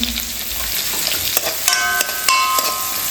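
Garlic frying in a pan alongside onion, a continuous bright sizzle with a few sharp clicks and scrapes as it is stirred, close and without talking.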